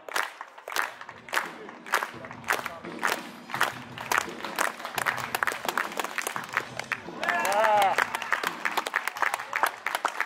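Spectators at a Finnish championship high jump for 19-year-old men in Lappeenranta clap in a steady rhythm together, loud and close, with shouts and crowd noise rising near the end.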